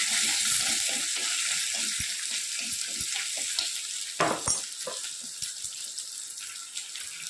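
Crushed garlic dropped into hot oil with popped mustard seeds, sizzling steadily and loudly throughout, with a burst of louder spattering and stirring clatter midway.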